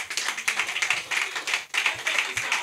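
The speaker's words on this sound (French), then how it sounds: "Si on peut l'encourager par des applaudissements" Applause from a comedy-show audience comes as a dense patter of many hands clapping, quite loud and continuous, with a brief dip partway through.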